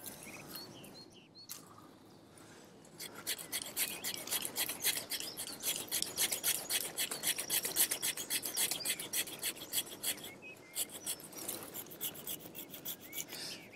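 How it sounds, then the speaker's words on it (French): A hand saw cutting through a branch while pruning a large olive tree: rapid, steady rasping strokes building into a rhythmic back-and-forth sawing, close by, with faint birdsong in the background. "Je fais très attention à ne pas trop appuyer sur ma scie en fin de parcours pour ne pas blesser."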